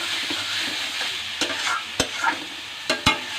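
Ingredients sauté in a pan with a soft steady sizzle, broken by several sharp clacks of a spoon or spatula striking the pan as the mix is stirred and fried down.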